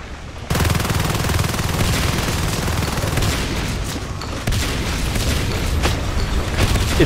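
A machine gun in Natural Selection 2 fires in a loud, dense, continuous stream of rapid shots that starts abruptly and keeps up for several seconds, with a brief break before the firing resumes.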